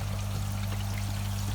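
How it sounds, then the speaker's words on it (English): Water pumped from a koi tank pours steadily out of a shower outlet, a constant close splashing flow with a low pump hum underneath, no voices. "So the water's just going through now."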